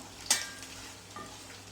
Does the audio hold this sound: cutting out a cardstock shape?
no